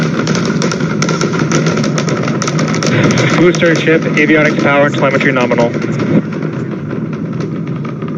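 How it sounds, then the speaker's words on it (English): A SpaceX Starship launch is heard from about six miles away as a low, continuous rumble under a launch commentator's voice and mission call-outs. "You just heard the rumble hitting us about 6 miles away."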